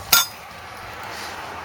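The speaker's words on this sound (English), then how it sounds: "slide the caliper off." A single sharp metallic clink rings out as a brake caliper slides off the disc of a 2005 BMW 325 E46, followed by quiet garage room tone.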